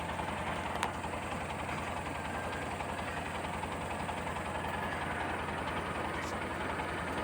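A tractor engine idling steadily while clearing hurricane debris on rural hunting property, a close, even low-pitched diesel chug with a regular knocking pulse and no talk.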